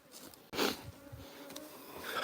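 Bees buzz around backyard beehives, faint intermittent droning as individual insects pass close to the microphone, with a soft handling bump partway through.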